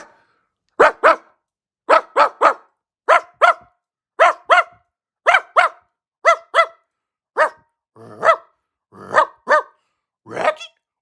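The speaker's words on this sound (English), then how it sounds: "she's going to be barking all the time." A dog barking in sharp, loud, close pairs and single woofs, about a dozen evenly spaced bursts with a slight growly edge, no talk.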